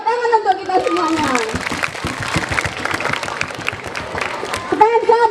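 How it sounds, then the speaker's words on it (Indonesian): Students at a junior high school clap together in a broad, dense burst of applause that lasts several seconds, with children's voices calling out over it at the start and again at the end. "tepuk tangan untuk kita semuanya"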